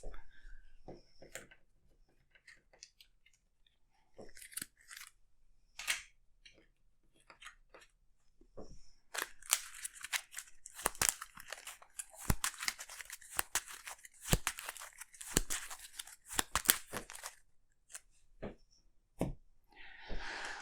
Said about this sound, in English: And then we shuffle these into the encounter deck.